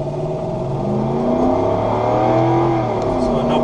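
A Lexus GX470 with its 4.7-liter engine accelerating on the road, a steady, loud engine drone rising gradually in pitch under continuous road and wind noise, heard from inside the vehicle.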